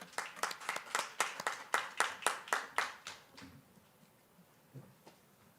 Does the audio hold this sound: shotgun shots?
no